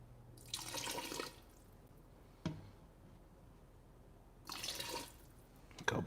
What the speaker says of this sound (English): A couple splashes of the pasta water in there.